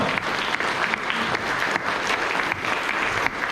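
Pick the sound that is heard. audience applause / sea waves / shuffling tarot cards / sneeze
audience applause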